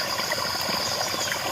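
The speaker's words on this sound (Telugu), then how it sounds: "కొండల నుంచి జారే నీళ్ళు ఇవన్నీ" Water from a hillside stream spills down the rocks at Bramham Gari Gutta near Nalgonda, making a steady, close, continuous rushing trickle with no voices.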